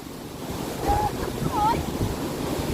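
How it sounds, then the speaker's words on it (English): River water flowing near a weir with opening gates and lily pads in Benson: a continuous broad rush of water, mixed with wind buffeting on the microphone, while a voice is heard briefly in the middle. "You hear all the water, Ozzy?"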